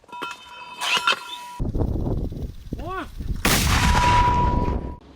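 A heavy artillery gun fires shells with a loud, booming blast and rumbling echo, followed by a second powerful report, close and very loud, in the Donetsk region near Bakhmut.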